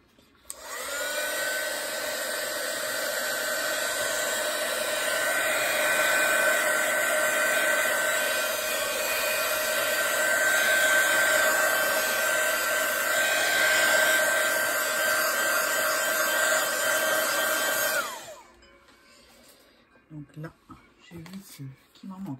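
A hair dryer blows steadily and loudly for about eighteen seconds, drying paint on a stencil painting, with a constant whining whoosh that cuts off abruptly, leaving quiet handling sounds.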